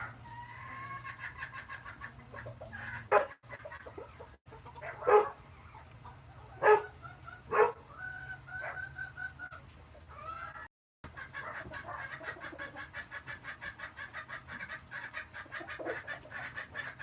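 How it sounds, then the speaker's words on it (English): Chickens and a rooster clucking and calling outdoors, with sharp louder bursts and a steady chorus of clucks throughout, plus a background hum and a brief dropout near the end. "I'm gonna put the camera on some chickens."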